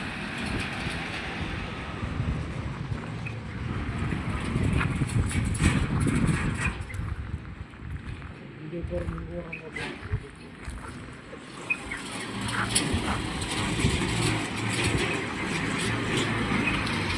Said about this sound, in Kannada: ಸ್ವಲ್ಪ ಗಾಡಿ ಸ್ಟಾರ್ಟ್ ಮಾಡಿ ಮುಂದೆ ಹೋಗಿ